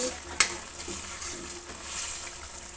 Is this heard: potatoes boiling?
yes